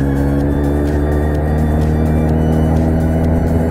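A motorcycle pulls away as the clutch is released and a little throttle is applied, its engine a loud, close, steady droning rumble throughout.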